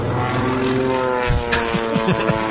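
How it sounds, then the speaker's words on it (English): An old propeller plane takes off with a loud, steady droning engine roar and rising throb. Some bumps and rattles sit on top of the drone, and no one speaks. "Plane's taking off."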